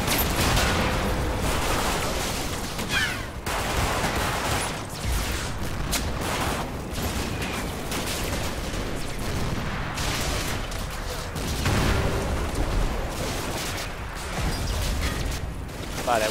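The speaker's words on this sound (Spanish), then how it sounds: "Aquí este pelotón de reconocimiento ha recibido disparos de este edificio." Gunfire and explosions in the Combat Mission Battle for Normandy video game, with dense, ongoing bursts of shots and booms over a loud, rumbling battlefield backdrop throughout.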